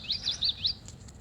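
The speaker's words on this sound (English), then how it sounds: "It's a warbler!" A Wild Republic toy warbler gives a short, faint, high chirping call of three or four quick tweets, close and alone.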